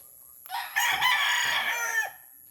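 A gamecock stag in a coop lets out a single crow, clucking mixed in, close and clear against a quiet background and lasting under two seconds.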